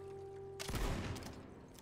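A single loud, booming double-barrel shotgun blast in the video game Tiny Tina's Wonderlands erupts after a low steady hum, its echo decaying over the following second.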